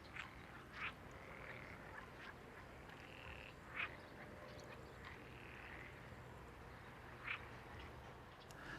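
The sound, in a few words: croaking frogs near railway line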